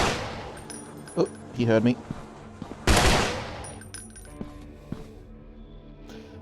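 Gunfire from a gun in the horror video game Slendergirl Must Die, a few sharp shots cracking out in a dark cellar among clinks and echoes, with a voice talking over part of it.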